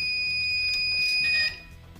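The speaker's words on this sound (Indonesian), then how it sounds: "Alarm ini akan berbunyi ketika kita membuka pintu" A homemade door alarm built from a motorcycle lamp circuit sounds a shrill, steady electronic tone, loud and close, which cuts off abruptly partway through when the door is shut.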